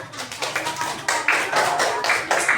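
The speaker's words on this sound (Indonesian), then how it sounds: "Yuk, tepuk tangan untuk 3 teman kalian di depan." A classroom of students claps for three classmates standing at the front: a brief, uneven run of close hand claps that swells in loudness over a couple of seconds.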